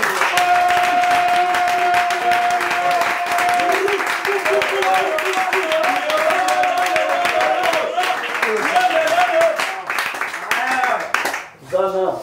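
Applause and cheering roll through a church congregation, a steady wash of clapping and voices that holds for about ten seconds before breaking up near the end.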